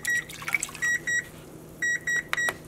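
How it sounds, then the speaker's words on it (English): A kitchen timer beeps in short pairs of bright electronic tones, repeating in two clusters while water splashes faintly in the background during acid dyeing of yarn. "There's a timer for my other project."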